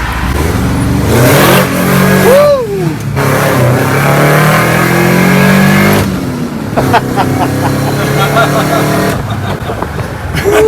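A VW bus fitted with a 162-horsepower water-cooled Subaru engine and custom exhaust revs hard and roars continuously with rising and falling pitch, gritty exhaust rumble throughout, voices faintly underneath.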